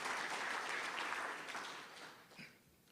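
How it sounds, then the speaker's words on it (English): An audience at a water utility's annual report stakeholder session claps in a dense, steady burst of applause that gradually thins and fades out over a few seconds. "I think we can also give ourselves a round of"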